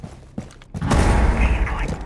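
A shotgun fires in Rainbow Six Siege: a couple of faint clicks and thumps, then a heavy blast that rolls into a sustained loud roar of gunfire and impact noise.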